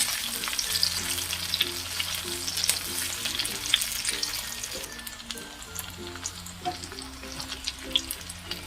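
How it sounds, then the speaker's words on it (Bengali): Onions fry lightly in a pan for a cabbage and meat dish, a soft, steady sizzle with faint stirring taps, heard quietly over a low continuous hum. "তো পেঁয়াজ আমি হালকাভাবে ভেজে নিয়েছি"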